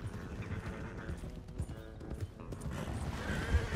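Horse hooves clip-clop at a brisk gallop in the Red Dead Redemption 2 video game, a rapid rhythmic pounding close by with faint tack rattles and a brief whinny, the pace building toward the end.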